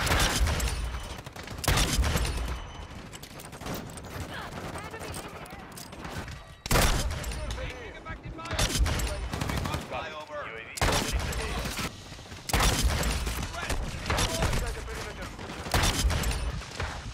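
Repeated bursts of Magnum gunfire in a video game, loud bangs scattered in clusters over a busy game mix, with a player's voice talking over parts of it.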